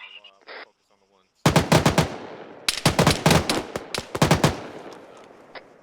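Close, loud bursts of automatic gunfire during Marine infantry training, rapid strings of shots in several volleys with ringing decay, preceded by a brief voice over a radio.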